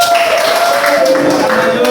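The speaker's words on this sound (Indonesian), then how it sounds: "tepuk tangan untuk kelompok kulit" A classroom audience claps for a student group about to present, a dense, steady patter of many hands lasting about two seconds, loud and close, with a faint tone running underneath.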